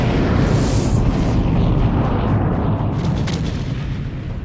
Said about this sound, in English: Without warning, a terrible explosion tears the ship in half.